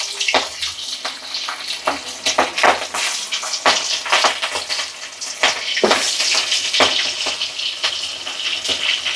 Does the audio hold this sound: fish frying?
yes